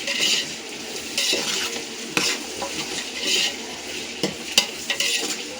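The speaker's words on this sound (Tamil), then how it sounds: "இப்போ மட்டன் சேர்த்தோன்னே ஆனியனில் நல்லா மிக்ஸ் பண்ணி கொடுக்கலாம்." Mutton is stirred into fried onions in a pot for biryani, with a spoon scraping and clinking against the metal over a constant sizzle, close up and with no speech.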